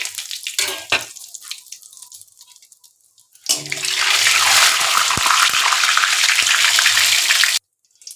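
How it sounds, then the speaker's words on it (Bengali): Two bay leaves and white cumin seeds hit hot oil in a pan and burst into a loud, steady sizzle that crackles on for several seconds after quieter kitchen clatter, then stops abruptly. "তেল গরম হয়ে গেছে, আমি 2টো তেজপাতা দিয়ে দেবো আর একটু সাদা জিরে ফোড়নে দেব"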